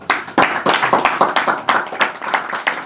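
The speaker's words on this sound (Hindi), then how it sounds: "तालियां बजाइए दोस्तों।" A small open mic audience claps in a close, loud, fairly regular rhythm, with individual hand claps clearly separated, as though a few nearby people are clapping together.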